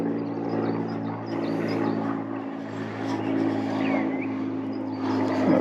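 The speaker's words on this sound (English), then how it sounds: "Apologies for the loud plane coming over." Loud propeller airplane passing overhead beside a lake during a tench fishing session, a steady droning hum that swells and eases across the whole stretch with outdoor ambience.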